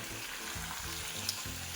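Steady, close hiss of potatoes frying in hot oil, a continuous sizzle with a faint tap partway through.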